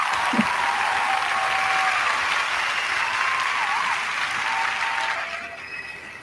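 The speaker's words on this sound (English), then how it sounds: "I'm going to give some applause" Applause from a small audience, a steady, fairly loud burst of clapping that holds evenly for several seconds before tapering off, with a faint high electronic tone underneath.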